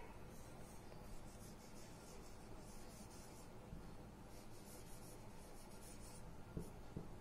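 Faint scratching of a pen or pencil writing on a paper worksheet, steady and quiet under a low background hiss, with no one talking.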